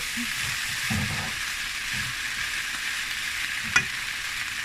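Chicken and black mushrooms being stir-fried quickly in a pan hiss continuously, with a few spatula scrapes and one sharp clink of utensil on pan.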